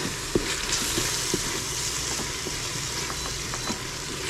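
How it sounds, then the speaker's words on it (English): Spices stirred into bacon jam in a pan: a steady close sizzle with scattered soft scraping and clicking from the stirring, no talk. "We're gonna add that to the pan. And we're gonna mix."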